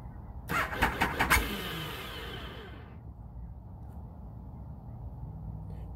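A motorcycle on a lithium iron battery at 30°F cranking with a rapid chatter of starter turns, catching and revving briefly, then settling into a low, steady idle.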